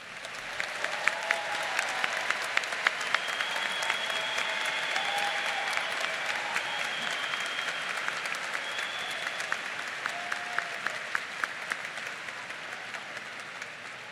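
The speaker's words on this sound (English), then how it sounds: "Let's give our graduates another round of applause." Sustained applause from a large audience for the graduates at a Ball State University summer commencement, 2019, steady and even for the full length, with a few louder claps and faint cheers.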